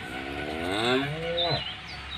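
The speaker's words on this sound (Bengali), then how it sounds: "আপনারা দেখতে পাচ্ছেন গাভীটা, এটা জার্সি এবং ফ্রিজিয়ান মিক্স আছে একটু" A Jersey and Friesian cross dairy cow, a two-toothed heifer, moos in a long, loud, drawn-out call that rises and falls over about two seconds, close by, with a steady low farm hum underneath.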